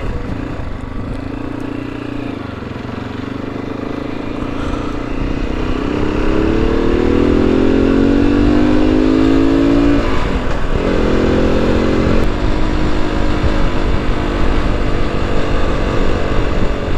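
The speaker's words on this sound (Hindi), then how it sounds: "चले करते हैं हम बाइक को पार्क।" A motorbike engine revs and climbs in pitch while being ridden during a riding gala at Bahria Town, a steady close drone that rises into a rising whine, steps back down, then holds loud to the end.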